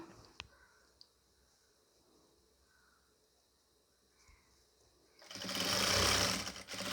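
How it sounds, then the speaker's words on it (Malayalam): A sewing machine stitches the hem of a nightie, running loudly in one short burst near the end after a long, faint lead-in of low rustling and a few small clicks. "അതിൻ്റെ മുകളിൽ കൂടി സ്റ്റിച്ച് ചെയ്ത് കൊടുക്കുകയാണ്"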